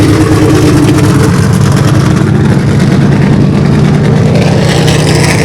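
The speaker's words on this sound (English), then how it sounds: "Oh, you hear that car right there start up." A NASCAR Xfinity stock car at Watkins Glen fires up in the garage, a loud, steady engine roar with a deep low rumble that runs the whole time and no talk over it.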